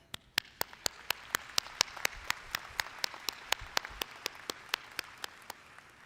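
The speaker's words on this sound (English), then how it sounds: "join me in giving a round of applause for our support systems that are here today." At a dental school commencement ceremony, a single person's steady, evenly spaced claps ring out close and distinct over faint background applause from the audience.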